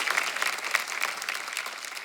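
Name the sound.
studio audience applause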